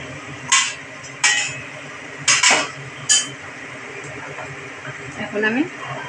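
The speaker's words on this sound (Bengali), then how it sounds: "আমি এক এক করে মাছ ছেড়ে দিচ্ছি।" Small pona fish pieces dropped one at a time into a thin, boiling curry of ridge gourd, potato and tomato: about five short, close splashy clinks spaced roughly a second apart over a steady low simmer.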